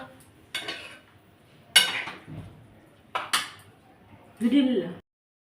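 Kashmiri chili being stirred into a guava and chili curry in a pan, heard as four separate bursts of spoon scraping and clinking against the metal pan, close and fairly loud, with quiet pauses between them.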